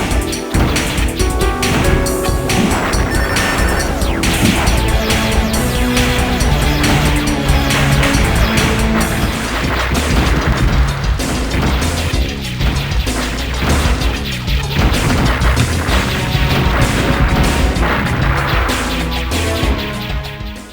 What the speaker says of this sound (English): The firing sounds and explosions are also of high quality.